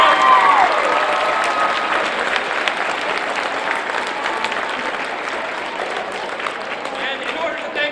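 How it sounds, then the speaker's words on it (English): Audience applause fills the room, a dense steady clapping from a crowd that holds strong throughout and tapers only slightly toward the end. "Give these guys a round of applause and thank you for coming out."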